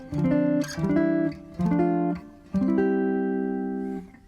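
A keyboard plays a short melody in block chords, each note voiced as a full chord, four phrases ending on a long sustained chord.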